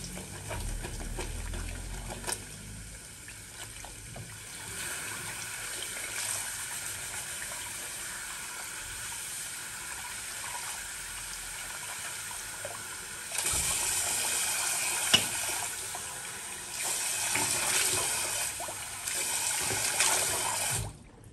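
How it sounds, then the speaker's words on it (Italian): Fresh water runs steadily from a tap into a basin during wet shaving, a continuous gushing hiss that swells louder toward the end, with no talking. "Acqua fresca!"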